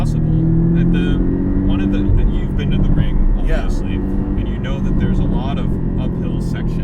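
A Porsche 718 Cayman S with a manual gearbox is driven on an open road, its engine giving a steady low drone with road rumble throughout, under continuous conversation inside the car.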